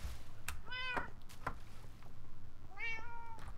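A cat in Minecraft meows twice, two clear, near mews a couple of seconds apart over a low steady background.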